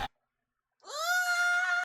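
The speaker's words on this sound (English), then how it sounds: "Why did I just hear a cow moo?" A single drawn-out animal call from a video game, a tonal bleat-like moo lasting about one second after a brief click and a stretch of silence, clear and close with no talk.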